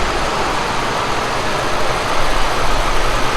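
A turbocharged Pontiac LeMans engine runs hard on a dyno, breaking up at high RPM as power drops off, a loud, dense, continuous roar that rises slightly near the end before cutting off abruptly.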